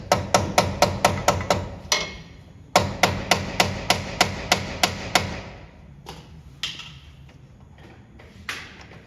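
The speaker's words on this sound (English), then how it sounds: "Let me grab a hammer to knock that out a little bit." A hammer knocks a metal part out during a 1940 Ford engine install: two quick bursts of sharp, evenly spaced strikes, about a dozen in all, then a few sparser knocks. The blows are close and loud, with no talk.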